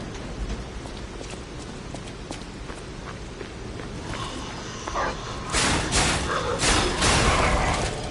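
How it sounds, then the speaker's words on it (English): Steady rain falls on a city plaza at night in the video game Lies of P, a dense hiss with scattered taps and thuds, swelling louder and busier toward the end. "Rainy night."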